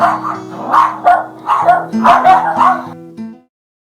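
Several dogs bark and yip excitedly close by in overlapping bursts, with whimpering mixed in before it stops suddenly.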